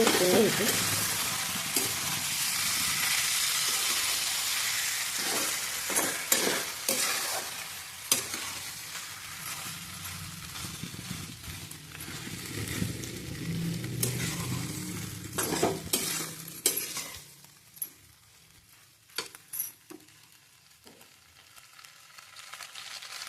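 Khapli wheat fries in ghee with a steady close sizzle and repeated spoon scrapes and clinks against the pot, the frying hiss fading toward the end while stirring continues.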